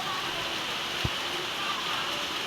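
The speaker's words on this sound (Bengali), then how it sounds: "বাংলাদেশ নোয়াখালী বেগমগঞ্জ বৃষ্টি হচ্ছে।" Rain falls steadily in Begumganj, Noakhali, Bangladesh, an unbroken hiss interrupted once by a single dull thump near the middle.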